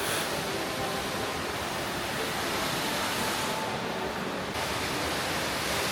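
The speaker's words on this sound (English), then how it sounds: "This is lovely, and there's a waterfall." An indoor waterfall inside a shopping center in Katowice, Poland, gives off a steady, even rush of falling water that fills the space evenly from start to finish, with no voices heard.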